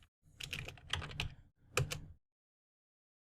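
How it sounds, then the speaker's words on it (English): Keys clatter on a computer keyboard in two short, close bursts of rapid typing as a command is entered, with a brief pause between bursts and silence afterward. "just type right here NSLookup facebook.com"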